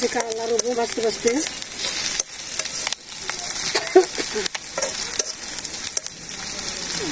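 Meat frying in a pan over a village kitchen fire, a close, crackling sizzle broken by brief pauses and stirring scrapes, with a voice talking over it at times.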